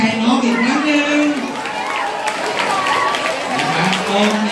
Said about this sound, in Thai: ขอให้พวกเราปรบมือให้กำลังใจน้องอีกครั้งหนึ่ง